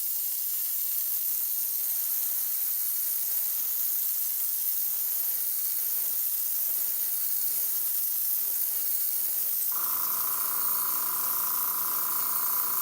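A paint spray gun with a large paint cup sprays a continuous soft hiss of atomized paint, steady throughout, with a brief hum of an air compressor joining near the end.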